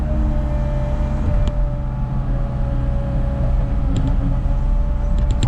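A Cat 306 excavator scrapes up rock while building a house pad, with a loud, steady diesel engine drone close by and occasional faint metallic clinks from the bucket.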